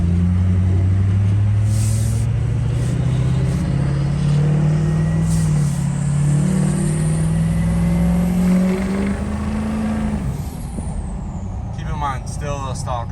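A stock 6.0 liter diesel truck engine runs loud and close with a steady low drone, rising slightly in pitch as it builds revs, then easing off near the end as a brief hiss creeps in.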